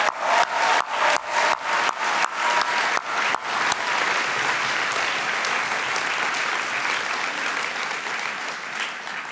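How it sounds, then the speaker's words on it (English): A burst of clapping from a crowd at a school graduation ceremony, sharp individual claps at first, then settling into a dense, steady applause that fades slightly toward the end. "please join me in applauding their efforts"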